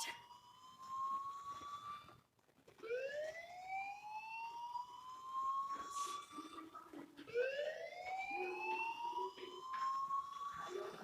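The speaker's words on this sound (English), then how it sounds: "do you hear that fire alarm? That means you should be outside." Fire alarm blaring in the video game Life is Strange, a repeating electronic whoop that sweeps upward in pitch, with three rising cycles separated by short gaps, steady and fairly loud without any talk.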